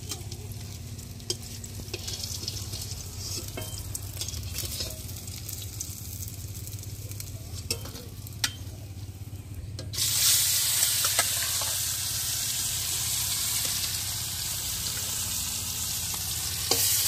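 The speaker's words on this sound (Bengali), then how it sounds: "বেশিক্ষণ ধরেই ভেজে নিচ্ছি।" Large pieces of fish fry steadily in hot oil, a continuous close sizzle with occasional stirring clicks, growing louder and brighter partway through.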